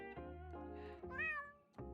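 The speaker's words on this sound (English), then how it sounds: "The cat." A cat meows in the video game JudgeSim, giving a few drawn-out, clear cries close up, one rising and falling in pitch, with steady game background sound underneath.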